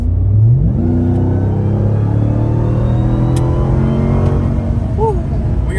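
A big Ram TRX pickup truck engine rumbles loudly and revs up, its low growl rising and holding steady as the truck pulls away.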